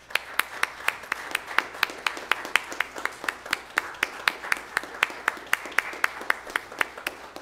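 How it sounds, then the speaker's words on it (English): A church congregation claps a hand of applause during a Sunday morning service, with steady, even claps repeating for several seconds at a moderate distance. "if you will join me in a hand of applause"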